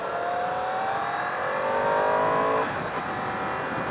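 A 2015 Yamaha R1 liter-bike engine accelerating on a bumpy road, a rising whine that climbs steadily in pitch for a few seconds, then settles into a steady rushing drone.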